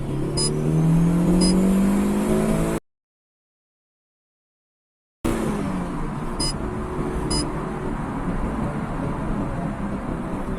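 A car engine tuned with Hondata Flash Pro and K-Pro runs under load, rising in revs as it pulls through the gears, with a gap of silence mid-clip before a steady whirring drive resumes.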